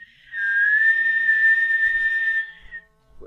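A person whistles a single sustained, slightly rising tone in imitation of the Guardians of the Galaxy arrow whistle, held clear and close for about two seconds before fading, with a soft thump after.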